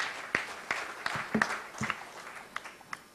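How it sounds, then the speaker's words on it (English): A small audience at a business convention gives sparse, scattered claps, faint and irregular individual hand slaps spaced out over a few seconds. "Let's give a big round of applause to all this team."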